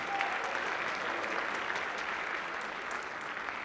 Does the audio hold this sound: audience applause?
yes